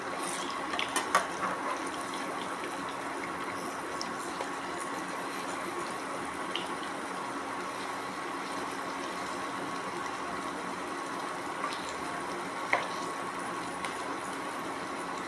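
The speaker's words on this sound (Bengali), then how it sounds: "এইভাবে আস্তে আস্তে আমি সব মালপোয়াগুলোকে ভেজে নেব।" Palm-fruit malpua pancakes fry in hot oil with a steady, even sizzle that runs throughout at moderate level, broken only by a few faint clicks.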